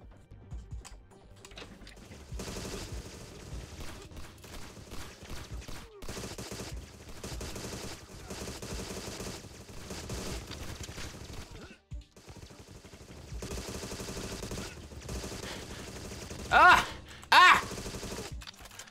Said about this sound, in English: It's even got the sound effects from the original James Bond game.